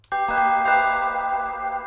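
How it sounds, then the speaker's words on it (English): Synth bells in an FL Studio beat, built from a preset bank: a bright chiming bell tone struck a few times in quick succession, then ringing out and sustaining clearly with no talking. "It's like this little creepy sound, and then the bells."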